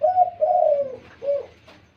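A dove with a loud, strong voice gives a close, clear coo in two sustained notes, followed by a shorter third note after a brief gap, with no talk over it.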